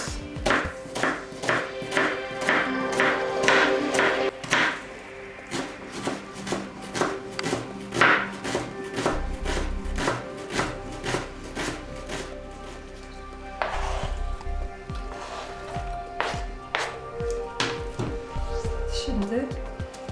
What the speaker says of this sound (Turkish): Sosumuza da soğanı doğrayarak başlayalım. Elimizden geldiğince ince olarak